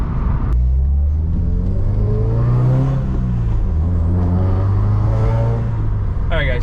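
A Subaru WRX with a full Invidia Q300 catback exhaust revs loudly and close by, its engine note climbing and dropping through several pulls with a deep rumble and no talking.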